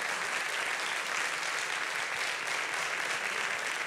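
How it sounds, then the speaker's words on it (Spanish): A congregation at a pastoral ordination service applauds, an even wash of clapping from many hands that holds at a constant, moderate level throughout. "Así que fuerte aplauso para nuestro hermano Eric."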